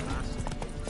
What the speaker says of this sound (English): Aaron's horses. They're running rampant.